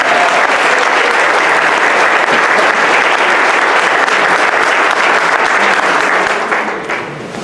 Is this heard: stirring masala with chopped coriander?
no